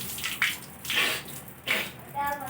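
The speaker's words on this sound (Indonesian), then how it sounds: "Jadi kita pakai air keran seperti ini, kita tampung di tangan" Tap water runs into a cupped hand in a few short splashing bursts with pauses between them, close and moderately loud, with no talking.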